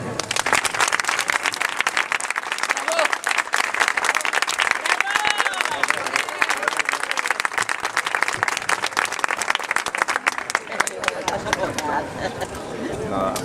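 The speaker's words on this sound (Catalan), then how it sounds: "Ara us demano un fort aplaudiment per a ell." Loud, sustained audience applause at a political campaign rally in the Castell de Santa Pola, dense rapid clapping filling the space, with some voices and crowd noise mixed in.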